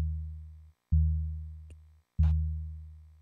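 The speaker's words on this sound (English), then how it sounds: "It has like a basic sine wave with a little bit of a pulse." A deep, pure sine-wave synth bass tone with a slight pulse and a lower octave beneath it, played as two long sustained notes that each start hard and slowly fade, with a brief gap between them.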